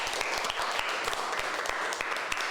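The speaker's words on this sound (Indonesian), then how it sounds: "Beri aplaus tuh kakak dulu." Classmates applaud a student in a school classroom with a burst of brisk, close hand claps. The claps are rapid and somewhat irregular, and no one speaks over them.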